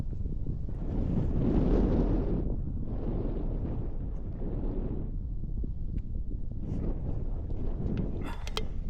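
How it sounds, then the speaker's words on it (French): Strong wind by a lake at a campsite, loud gusting buffeting against the microphone that swells and eases in waves, with no talking. "Il y a du vent pas mal par là."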